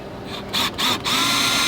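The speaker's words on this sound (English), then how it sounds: "Okay, so let's see if I can drill a hole in the middle." A power drill boring a hole through RV trailer fiberglass for a backup camera install, a close, high whine that cuts out twice briefly before resuming steadily, with the bit grinding into the shell.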